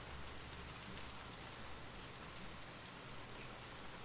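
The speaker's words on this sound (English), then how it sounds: "The steady rain will continue to accompany you as you drift deeper into slumber" Steady rain falls continuously, a dense, even hiss of drops on surfaces with no pauses, no voices and no thunder, holding at a moderate, unchanging level throughout.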